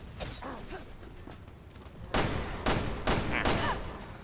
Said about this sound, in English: They're really fast firing, fast reloading, simple to use